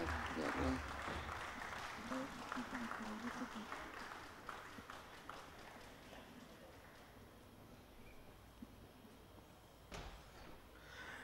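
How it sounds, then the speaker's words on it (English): Applause for the medalists at an airgun shooting championship ceremony: a sustained crowd clapping that swells early and slowly thins, mixed with a voice over the hall. "Please give them a big round of applause as they are proceeding towards the podium."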